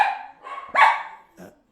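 A dog barks close by in two or three sharp, harmonic bursts, with short gaps between them and a quieter final bark.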